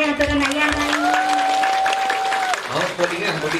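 Crowd applause at a Balinese bondres comedy performance in Tabanan, a steady wash of clapping beneath sustained tonal music and voices.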